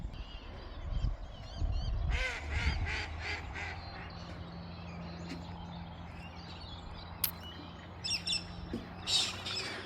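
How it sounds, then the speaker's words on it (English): Waterbirds at a riverside campground, among them ducks, egrets, spoonbills, pelicans and swamp hens, give repeated chirps and honking calls at a moderate distance over soft background noise. "there's ducks, there's egrets, there's spoonbills, there's pelicans, there's swamp hens"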